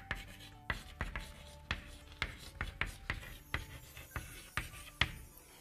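Marker or chalk strokes on a classroom board during a children's English lesson, a series of short scratchy taps and rubs in irregular rhythm, close and fairly quiet with no talking.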